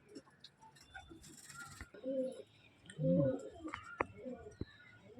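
A kalpora breeding pigeon with clipped wings at a home loft gives two low, throaty coos a second apart, moderately close, among faint loft rustling and scattered chirps.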